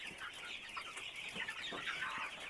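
Broiler chickens clucking together in a cage, a steady chorus of soft, overlapping calls with no talk over it.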